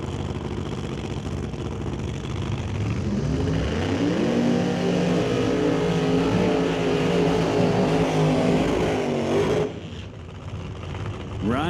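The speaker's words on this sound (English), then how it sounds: "Here comes Hayward to light up the tires." Drag car laying down a burnout on slick tires, the engine revving hard and climbing under a sustained roar of spinning rubber, loud and close, then cutting off abruptly near the end.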